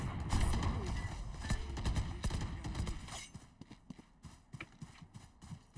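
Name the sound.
enemy footsteps in a video game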